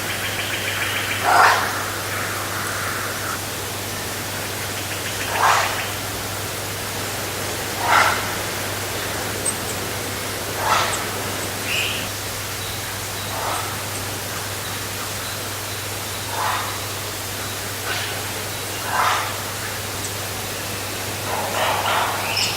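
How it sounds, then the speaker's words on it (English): A lone dog barks in the distance, roughly eight separate faint barks spaced a few seconds apart, heard over a steady hiss and a low electrical hum in a quiet outdoor setting. "The lyrebird stops and the lone barking starts."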